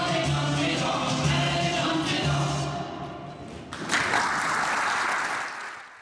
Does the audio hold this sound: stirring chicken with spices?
no